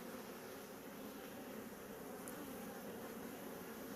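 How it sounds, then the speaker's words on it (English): Honey bees hum steadily inside an open hive during an inspection, a dense, continuous buzz of many insects close by with no break or talk. "There's a lot of bees there covering it though"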